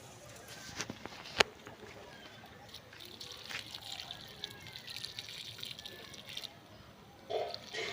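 Water is poured onto freshly planted potatoes in a home garden plot, a faint trickling and dripping with a few sharp clicks, heard quietly outdoors.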